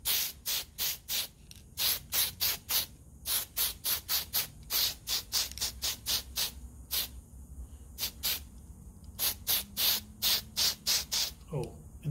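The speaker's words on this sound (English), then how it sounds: "we're gonna give this guy a nice quick coat of some nice fine surface primer from Mr. Tamiya" A spray can of Mr. Tamiya fine surface primer hisses in many rapid, evenly spaced short bursts over a scratch-built model frame, close and steady with brief pauses, and a faint voice or thud is heard at the very end.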